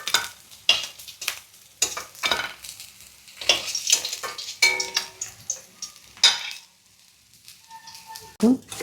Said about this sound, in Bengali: দেখুন মাছগুলো লাল লাল করে ভাজা হয়ে গেছে, এবারে এগুলো আস্তে আস্তে তোলা হচ্ছে।